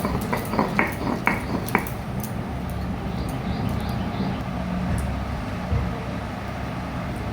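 Jackfruit seeds dry-roasted in an empty wok: a handful of sharp clicks and rattles against the metal early on, then a steady low rumbling hiss that carries through to the end.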